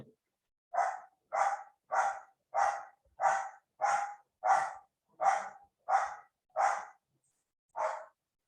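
A dog barks at a delivery guy, giving about eleven evenly spaced, loud single barks at a steady rhythm, close by and alone against silence, with no talk.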